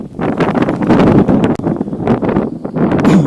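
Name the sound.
strong wind on ice, wind noise on microphone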